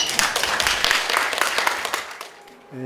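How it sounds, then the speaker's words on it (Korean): An audience at a lecture gives a short round of warm applause, dense overlapping claps that stay loud and even before tapering off at the end. "뜨거운 박수로 맞이해 주시기 바랍니다."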